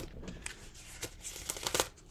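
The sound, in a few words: shuffling tarot cards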